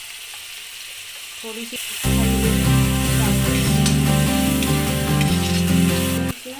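Turmeric, coriander and red chili powder sizzle loudly in a hot pan with oil, a steady close frying hiss that surges in about two seconds in and holds, with someone briefly speaking.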